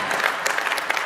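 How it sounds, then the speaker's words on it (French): An audience applauds at a European People's Party political gathering, a dense, steady patter of many hands clapping at close range without pause. "u mag er best even voor applaudisseren"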